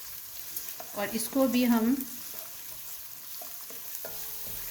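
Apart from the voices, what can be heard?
onion and whole garam masala frying in a pan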